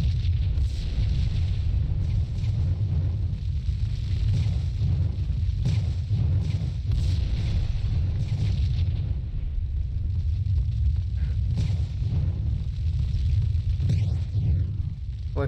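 Gunfire in the shooter game Max Payne booms through a heavy, continuous low rumble, loud and close, with sharper cracks and bursts scattered across the sustained roar.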